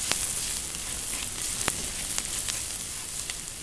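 Garlic sizzles in a tablespoon of hot cooking oil, a dense, steady frying hiss close by with a few faint pops and stirring clicks, alone without talk.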